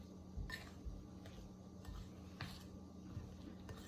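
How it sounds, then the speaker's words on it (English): Cookie batter of powder, eggs and butter mixed by hand in a bowl, faint repeated knocks and scrapes of a utensil against the bowl at an uneven rhythm, quiet and close. "when I'm mixing, I get all that powder to mix into the eggs and the butter"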